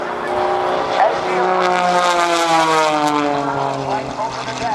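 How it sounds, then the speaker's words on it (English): An aerobatic propeller airplane performing at an airshow, a loud engine whine sweeping up and down in pitch as it rolls overhead, with an announcer talking over it. "keep this airplane rolling all the way around those clouds"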